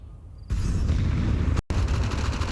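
A flashbang grenade goes off in Counter-Strike during an IEM Cologne 2024 match between Imperial and paiN: a sudden loud burst that gives way to a sustained ringing roar, briefly cut by a short silent gap before the ringing returns.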